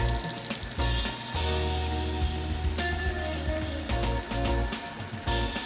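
Cube steak with onions frying in a pan over low to medium heat, a loud, steady sizzle and crackle with scattered pops, close up and with no talking.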